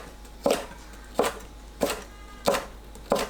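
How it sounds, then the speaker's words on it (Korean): A knife cuts halved, seeded red and green chili peppers into thin strips, giving five crisp, evenly spaced chops against a cutting board at a slow, steady rhythm, close and clear. "홍고추 1개, 청고추 1개를 반 갈라 씨 빼고 채 썰어주세요."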